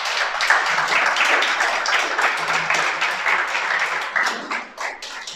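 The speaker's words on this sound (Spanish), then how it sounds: "Vamos a darle un aplauso al Creador." An audience at a Torah teaching session applauds, a dense patter of many hands clapping together at moderate volume that gradually thins and fades toward the end.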